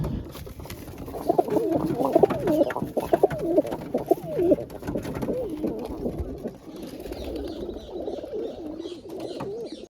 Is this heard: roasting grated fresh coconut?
no